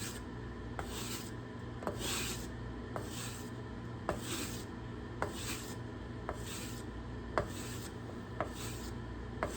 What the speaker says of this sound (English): I'm going to sand here.